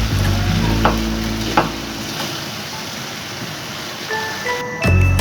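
Pizza sauce with tomato ketchup cooks in a pan, giving a loud, continuous close sizzle with a few sharp stirring clinks, then a clatter near the end; no one speaks.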